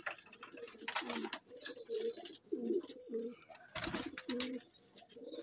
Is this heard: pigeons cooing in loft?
yes